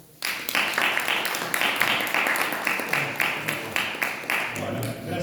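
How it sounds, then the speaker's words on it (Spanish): An audience at a talk on San Martín applauds, with loud, dense clapping from many hands that runs steadily for several seconds and fades slightly near the end. "Muchísimas gracias y un gran aplauso."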